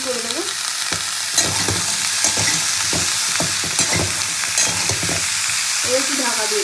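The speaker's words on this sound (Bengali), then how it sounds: "এবার সবজিটা খুব ভালো করে নাড়াচাড়া করে গ্যাসটাকে সিল করে দেবো।" Vegetable curry with soybean and potato being stirred and fried on a gas stove, a steady sizzle broken by repeated scraping strokes of the spoon against the pan, close and continuous.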